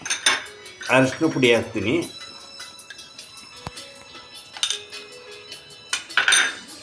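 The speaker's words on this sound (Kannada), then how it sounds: "ಫಸ್ಟು ಒಂದು ಎಗ್ ಹೊಡಿತೀನಿ" An egg is beaten in a bowl while preparing fish fry, giving bright metallic clinks and scraping taps of utensil against dish, bunched at times and sparse at others, with a person speaking over part of it.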